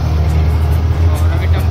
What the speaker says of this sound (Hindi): अभी टेम्पो बैठ रहे बहुत ज़्यादा आवाज़ आ रही होगी